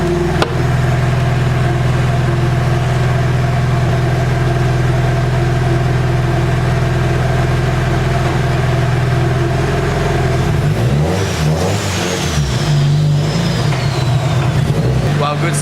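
A Nissan S14 drift car engine idles with a steady low rumble, then revs up unevenly near the end, close and loud throughout.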